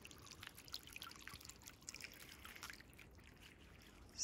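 Water trickles and drips gently in a deep garden fountain in a late-summer cottage garden, a faint, continuous splashing with no voices.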